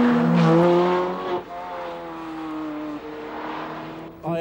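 A Ferrari 430 Scuderia driving under hard acceleration, its engine note rising through the revs with brief dips at gear changes, loud and close throughout.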